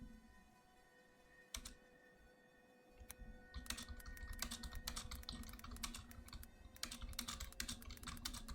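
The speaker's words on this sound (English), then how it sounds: "pardon my typing. You'll probably hear clickety-clack." A computer keyboard is typed on quietly, with a few isolated clicks at first and then a fast, continuous run of clattering keystrokes, heard alone and at low level.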